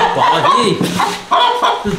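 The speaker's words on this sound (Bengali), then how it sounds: "এই দেশি মুরগিটা কিনে এনেছি" A native desi hen with her legs tied clucks indoors in a few short, close, fairly loud bursts separated by brief pauses.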